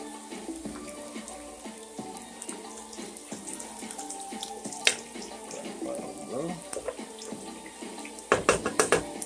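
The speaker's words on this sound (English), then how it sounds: "Washing the red beans." Red beans are washed under a running kitchen tap: a steady stream of water splashes in a sink alongside intermittent clinks and rattles of the beans, with a cluster of sharper knocks near the end.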